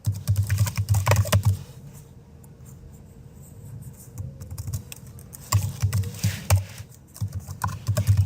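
Fingers tap steadily on a computer keyboard while code is entered, with quick clustered keystrokes at the start and end around a quieter pause in the middle, close and clear with no voice.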